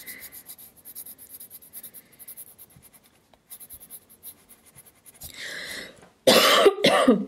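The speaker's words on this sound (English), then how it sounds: "Still coughing." Quiet scratching and rubbing, then a couple of sharp, loud coughs near the end, close to the microphone.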